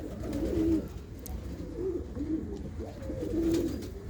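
Pigeons cooing nearby, several soft low throaty calls repeating in a loose rhythm over a faint background hum.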